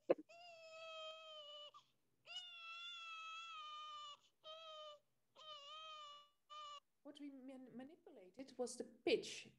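Recorded infant cries with their pitch raised, five high, wailing bursts with pauses between them, heard alone, then a noisier, more broken stretch of crying toward the end.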